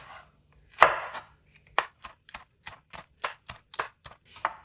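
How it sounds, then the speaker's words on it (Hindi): Green chillies being chopped with a knife on a board, a loud first stroke followed by a steady series of about ten crisp, close taps, with no talking. "यहाँ पे दो ग्रीन चिली है, इनको भी हम इस तरह काट लेंगे।"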